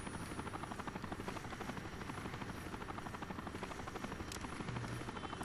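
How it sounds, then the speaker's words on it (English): Helicopter in the shooter game Rainbow Six Vegas 2, a steady rapid rotor chop and engine drone sustained throughout at moderate level. "Is that our helicopter?"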